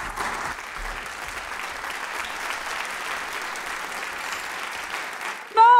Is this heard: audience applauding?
yes